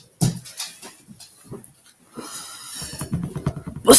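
A dog whimpers and pants indoors in a home kitchen, with soft, irregular whines and breathy panting that grow busier toward the end.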